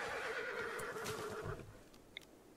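A horse in the video game Rimworld gives a loud, wavering neigh that lasts about a second and a half and then fades, followed by a faint click.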